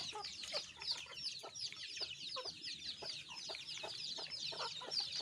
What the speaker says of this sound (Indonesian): Ini dia guys, ayam kita.